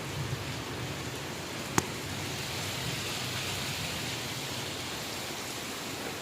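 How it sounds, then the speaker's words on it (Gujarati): Rain falling outside at night, a faint, even wash of steady noise with one sharp click partway through and no voices. "બહાર હજી વરસાદ ચાલુ હોય"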